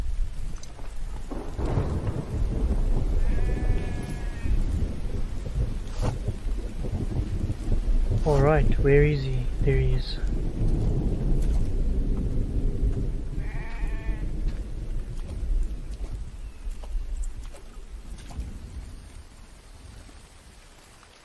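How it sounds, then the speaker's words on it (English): A sheep bleats several times in The Infected survival game, wavering cries heard over a rumbling thunderstorm with rain, while someone talks quietly. "I hear a sheep."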